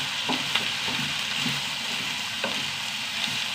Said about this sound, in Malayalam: നന്നായി വഴറ്റിയെടുക്കട്ടെ കേട്ടോ